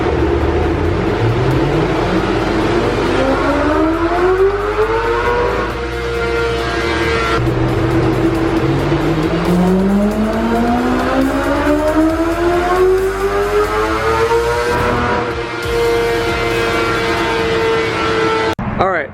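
A 2020 BMW S1000RR motorcycle engine screaming on a dyno, loud and close, its pitch climbing in long rising sweeps through the gears, with brief drops at each shift before the next pull.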